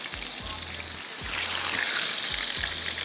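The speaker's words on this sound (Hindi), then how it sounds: "शैलो फ्राई होगी ये फिश।" Fish shallow fries in a pan, giving a steady hiss and sizzle that grows slightly louder, with a few low thuds and knocks underneath.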